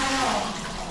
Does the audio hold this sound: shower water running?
yes